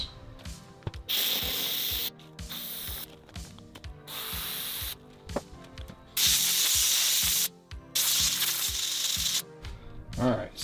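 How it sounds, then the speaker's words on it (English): Brake cleaner is sprayed onto a fuel hose in bursts of hissing spray, about six sharp loud blasts separated by short pauses, with faint clicks and handling noises in between. "Spray the hose with brake clean, blow it out with air, maybe spray it with water."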